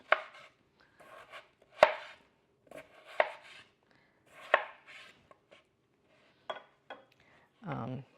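A knife chops leeks and potatoes on a board for potato and leek soup, a sparse series of sharp, close knocks spaced about a second apart with a few lighter taps between.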